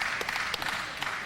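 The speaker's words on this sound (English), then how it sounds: "And the fans cheering." Wrestling crowd at an IWC match cheering and clapping for two favorite wrestlers, a steady broad roar with scattered sharp claps throughout.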